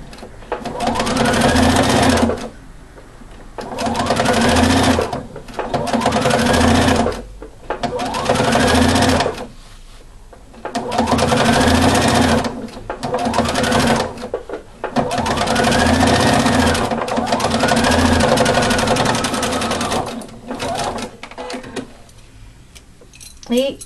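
A sewing machine stitches fabric bibs in repeated bursts of several seconds each with short pauses between runs, loud and close, with the motor whirring as it drives the needle.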